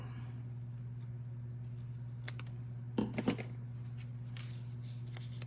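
Scissors snip paper for handmade card making, a brief cluster of crisp cuts heard close and quiet against a steady low electrical hum, with no speech.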